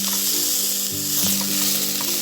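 Onion fries with kadai masala and ginger garlic paste in a pan, giving a loud, dense, unbroken sizzle close by, with a faint low hum running underneath.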